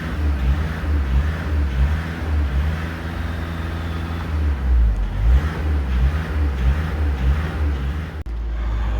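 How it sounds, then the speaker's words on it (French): A Volkswagen Caddy 2.0 TDI diesel van engine revs up and down several times over a low rumbling idle, with steady mechanical noise throughout and no talking. "On va accélérer plusieurs fois."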